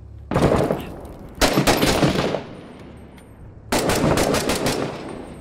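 Bursts of automatic gunfire in the video game Six Days in Fallujah, loud and close, in three sustained volleys separated by brief pauses, no talk over them.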